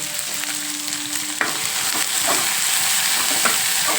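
Okra frying in a pan: a steady, close hiss of sizzling oil broken by a few sharp scrapes as the vegetables are stirred.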